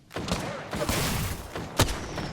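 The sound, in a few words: gunfire in the video game Apex Legends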